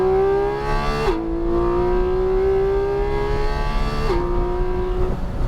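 A Porsche Cayman GT4 RS accelerates hard on the Nelson Ledges race track. Its engine is loud and close, climbing steadily in pitch, with two sharp upshifts that briefly drop the note before it climbs again.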